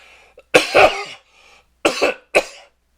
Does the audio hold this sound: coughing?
yes